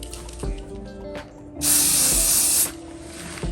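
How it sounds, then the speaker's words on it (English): A steady, bright hiss from an aerosol can of Scotchgard fabric protector sprays onto a canvas bag for about a second, framed by a few soft clicks and handling knocks, with no speech. "let's get to spraying."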